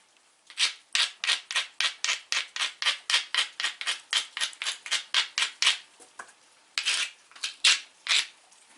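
The edge of a Georgetown flint biface being ground with rapid rhythmic rasping strokes, about two dozen close, crisp scrapes in a steady back-and-forth cadence, with a short pause near the end before a few final strokes.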